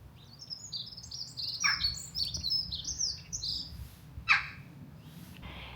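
Birds tweet in a garden on a sunny day, several bright chirps and short trilling calls clustered, then a few isolated ones, fairly near over a low outdoor rumble.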